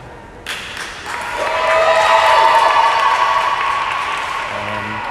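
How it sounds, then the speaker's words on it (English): Crowd in a varsity volleyball gym breaking into applause for a player as she sits down, a sudden loud swell of clapping and cheering that builds and holds steady. "number 61 gets a big applause as she sits down"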